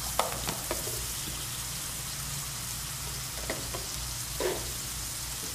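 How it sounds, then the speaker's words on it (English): Peas sauté in a pan for a vegetarian pasta primavera, giving a constant crackling sizzle close up, with occasional sharper pops and brief stirring clatters throughout, no speech. "we're gonna just saute that a little bit"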